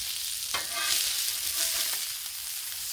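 Bacon pieces sizzle and crackle on a Blackstone flat-top griddle, a steady close frying hiss with a few brief scraping or stirring sounds and no talk.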